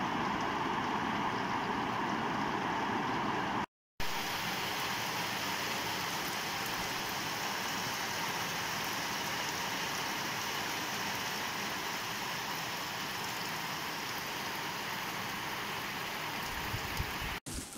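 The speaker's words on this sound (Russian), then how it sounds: "Такой сильный дождь идет." Heavy rain pours down steadily outdoors, a dense continuous hiss of drops on surfaces lasting throughout, with a brief cut near the start and no talking over it.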